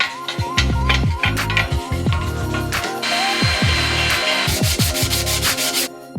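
Hand sanding a crusty, corroded, previously used engine manifold produces close, loud, rhythmic rasping strokes that repeat steadily throughout, with no talking.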